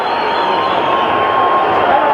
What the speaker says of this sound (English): the crowd stands and cheers for both fighters